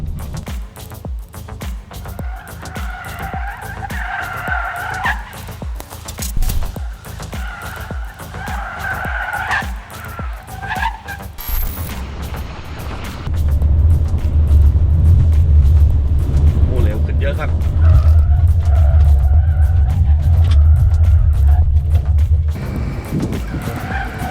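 An MG4 Electric car slaloms through pylons at around 90 km/h, its tires scrubbing and skidding over a steady road rumble that swells louder in the second half, with someone talking over it throughout.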